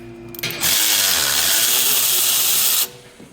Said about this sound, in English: you're gonna use a wrench like this or a plier to hold it in place, right, and take the bolt off